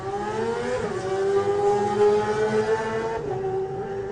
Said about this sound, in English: the revs going up on the Kawasaki of James Hillier